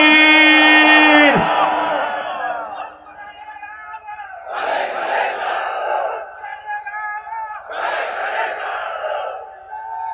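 A huge open-air religious rally crowd at a Barisal college field roars back in unison to a takbir call, two loud swelling waves of massed voices rising and falling after a preacher's amplified shout.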